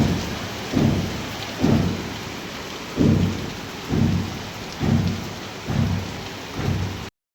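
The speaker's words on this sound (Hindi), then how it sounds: "देखो कितनी तेज हो रही है बारिश।" Heavy rain pours steadily and loudly with no voices, while low rumbles of thunder swell and fade about once a second throughout.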